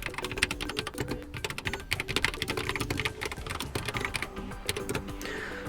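Fast typing on a Xiaomi wireless keyboard: dense, close clicking keystrokes in quick irregular bursts, fairly quiet, with no talking.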